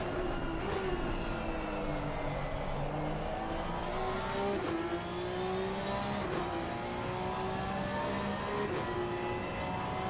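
Porsche GT3 Cup car in a sim race at Bathurst, its engine revving hard through the gears with rising and falling pitch sweeps and shift breaks, loud and continuous throughout.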